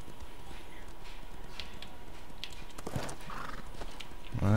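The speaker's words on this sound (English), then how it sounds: "let's get my horse out and we'll go on up here." Horse in the video game Elder Scrolls Online running along a road, a steady rhythmic clip-clop of hooves under a constant ambient game bed, with a louder snort or whinny at the end.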